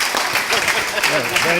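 An audience at an improv talk applauds with a dense burst of clapping, while a voice talks over it.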